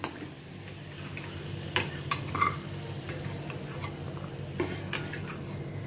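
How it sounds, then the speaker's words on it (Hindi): Fried potatoes being moved from a kadhai to a plate over a low gas flame, with soft stirring and a faint sizzle of oil under a few sharp clinks of a utensil against metal, close but quiet. "आलूओं को अभी मैं प्लेट में ट्रांसफ़र करती हूँ"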